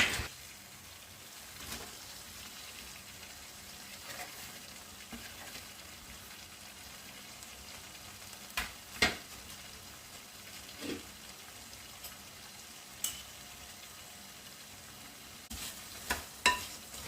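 Chopped onion being stirred into a pepper chicken curry, frying with a steady low sizzle and scattered spoon scrapes and clicks against the pan, sharper taps near the end, no talking.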